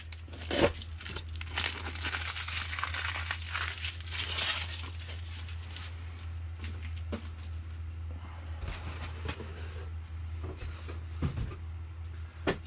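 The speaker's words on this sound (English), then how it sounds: "I want to get all the tape off of here so I can put this in the recycling bin later." Packing tape being peeled off a cardboard box that held a model glider kit, a long crackling, tearing rip followed by scattered crinkles and handling noises, close up against a steady low hum.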